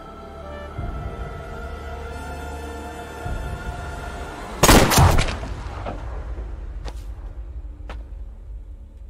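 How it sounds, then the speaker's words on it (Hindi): A single sharp gunshot cracks out mid-clip over a low steady background hum, followed by a few fainter distant clicks and taps. "गोली चलाओ साहब।"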